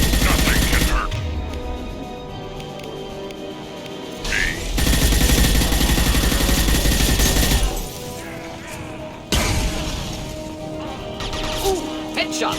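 Gunfire from the video game Mass Effect 2: loud bursts and sustained volleys of shooting, with heavy crashes and impacts, broken by brief quieter stretches, while a voice talks over the action.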